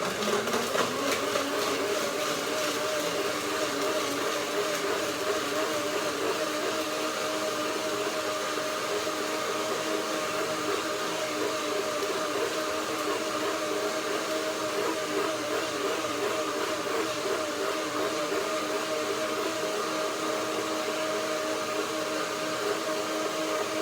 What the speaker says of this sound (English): So this is my dressing. I will blend it with a little bit of water.